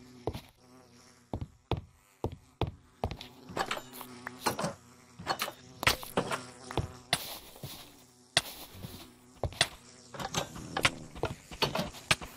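Angry bees from the Cave Horror Project video game buzz in a dense swarm, with sharp repeated clicks and thumps cutting through a steady droning hum.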